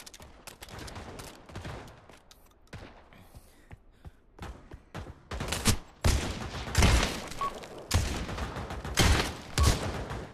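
Gun battle in the video game Pavlov VR: bursts of rapid gunfire and single shots, some distant and others loud and close, grow denser and heavier in the second half.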